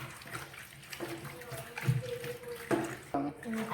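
Running tap water splashes while hands are rinsed, an uneven flowing and spattering sound that shifts as the hands move under the stream.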